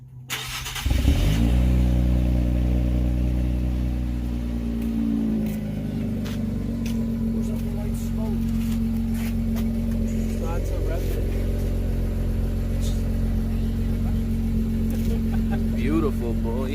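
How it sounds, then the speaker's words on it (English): An Infiniti Q50/Q60 with an Ark Performance exhaust cold starts, cranking and firing up, settling into a loud, steady rumbling idle from its exhaust, with people talking faintly nearby. "We're gonna go ahead and do a little cold start for you guys."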